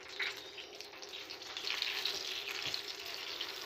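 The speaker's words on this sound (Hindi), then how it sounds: "अब हरी मिर्चों को हम करेंगे फ्राई लो टू मीडियम आंच पे" Green chillies frying in about five or six tablespoons of oil in a pan over low to medium heat, giving a steady close hiss and crackle that swells slightly partway through, with no voices.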